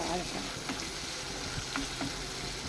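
Onion, green chilli and curry leaves sautéing in a pan for a brinjal theeyal, giving a steady soft sizzle and crackle with a few faint clinks, close and continuous.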